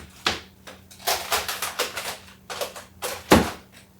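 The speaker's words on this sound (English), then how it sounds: "Now I'm gonna cut it in quarters." A knife chops through a cabbage on a cutting board, quartering it in a quick series of sharp knocks and crunchy slices, close and clear, with one heavier thud near the end.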